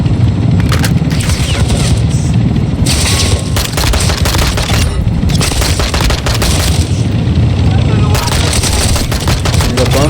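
Dense, sustained video game gunfire with rapid automatic bursts and heavy booms, loud and continuous throughout, with brief pauses between volleys.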